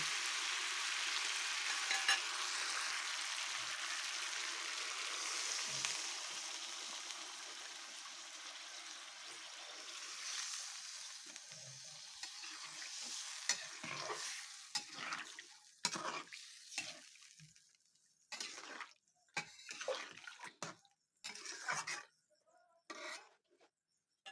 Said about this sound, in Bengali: এখন আমি পরিমাণ মতো ঝোল দিয়ে দিব